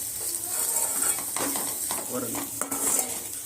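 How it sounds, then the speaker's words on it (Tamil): A spoon stirs potatoes and vegetables coated in chilli powder in a hot pan, with continuous sizzling and soft scraping against the metal, close by. "இந்த சில்லி பவுடர் உருளைக்கிழங்குல காயில எல்லாத்துலயுமே ஆட் ஆகுற மாதிரி கலரி விட்டுக்கோங்க"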